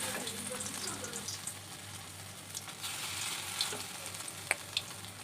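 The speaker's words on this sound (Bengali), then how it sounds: "তেলটা গরম হয়ে গেছে, এখন দিয়ে দিচ্ছি।" Soybean bora frying in hot oil, a dense, continuous sizzle and crackle with a few soft pops, fairly quiet and steady, no voices.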